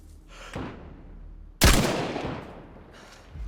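A single loud sniper rifle shot in the DayZ video game cracks sharply and close, followed by a long echoing tail that fades slowly, with a fainter, softer shot or thump near the end.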